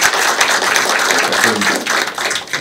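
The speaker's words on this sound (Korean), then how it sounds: "예, 큰 박수 부탁드립니다." A room of staff at a district office's regular management meeting breaks into applause, a dense, loud wash of clapping that holds steady for a couple of seconds before thinning out.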